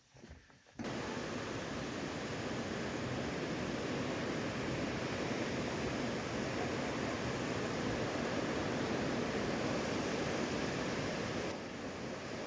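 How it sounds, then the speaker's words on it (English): Water rushing through the steep-sided gorge of the Fairy Glen near Penmachno makes a loud, continuous roar that starts abruptly and holds steady, close to the microphone, with no talking. "I hope you can hear me over the sound of the water."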